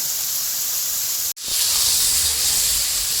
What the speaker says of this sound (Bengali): কিন্তু আমি গুঁড়া মশলাটাই দেবো